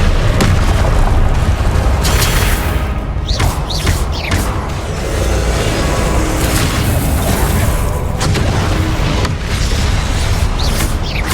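Confringo spell blasts in the Hogwarts Legacy video game, repeated heavy booming explosions over a loud continuous rumble of combat, with brief whooshing bursts spread across the stretch.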